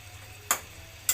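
Taro stolons and prawns get stirred in a frying pan: a faint background sizzle broken by two short, sharp scraping strokes of the spatula, spaced about half a second apart, with no voices.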